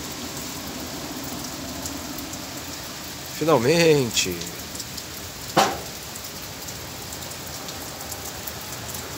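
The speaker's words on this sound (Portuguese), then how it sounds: "E depois de tanto enrolar, chegou a chuva!" Light rain falls steadily over a city as a weak low-pressure system moves in, a continuous soft hiss under a brief spoken exclamation and a couple of louder passing sounds.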